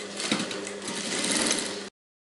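A sewing machine runs a steady, fast stitching burst on a blouse for about two seconds, close and loud, then stops abruptly into silence.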